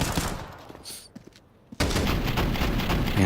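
Rapid AK rifle gunfire in the video game Counter-Strike at a pro league match, sparse clicks and shots giving way after a short lull to a dense, loud burst of continuous fire.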